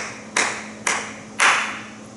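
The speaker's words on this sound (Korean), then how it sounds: "박수도 치고 앉아있습니다." Three separate bursts of hand clapping from a church congregation ring out in quick succession at moderate loudness over a quiet room, with no talking.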